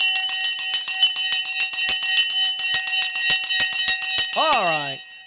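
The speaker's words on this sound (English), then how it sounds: "The bell's gone." A stock market bell rings loudly, a rapid continuous electric trill lasting about five seconds before it trails off into a sliding warble.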